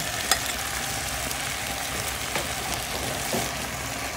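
Mung beans frying and being stirred in a pan, a steady soft sizzle with a few faint scraping clicks from the stirring, no voices.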